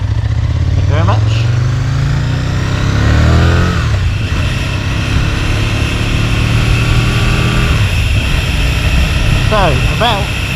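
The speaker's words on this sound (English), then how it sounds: "my bike I'm riding is my 2003 Aprilia RSV Millie" A 2003 Aprilia RSV Mille V-twin motorcycle engine drones loudly throughout a ride, with wind rush and shifting revs, while a rider talks over it.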